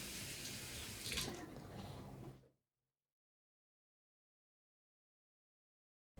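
Water runs steadily from a Euro 1770 series touch-activated kitchen faucet, a loud close splashing stream for about two and a half seconds before cutting off abruptly into silence.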